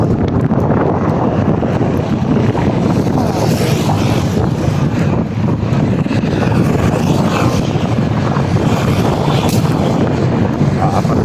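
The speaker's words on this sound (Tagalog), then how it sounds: "Malakas pa hangin." Strong wind buffets the microphone in a constant loud roar at the Pasig floodway, with a steady rumble like an engine or water underneath.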